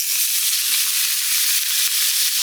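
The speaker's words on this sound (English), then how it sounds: "When you fry mince in a pan, make sure the pan is way hotter than you want it" Beef mince hits a very hot pan of smoking oil and fries with a loud, dense, steady sizzle, heard up close and unbroken, with no voices.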